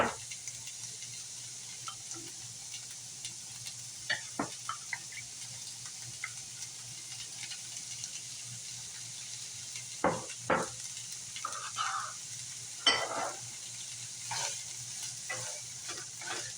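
Chopped onions and green onions browning in a pan for fried rice, giving a soft, steady, low-level sizzle broken by occasional scraping and clicking stirs.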